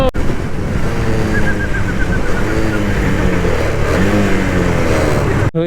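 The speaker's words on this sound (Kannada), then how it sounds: "ಇಂಜಿನ್ ಬ್ರೇಕಿಂಗ್ ನಾನು ಟೂ ಟ್ವೆಂಟಿಲಿ ಇಂಜಿನ್ ಬ್ರೇಕಿಂಗು ಮಾಡಲೇಬೇಕು ಗುರು" Engine noise from a 220 cc motorcycle engine braking on an open road, a steady mid-pitched drone with shifting revs and wind rush running throughout, loud and close.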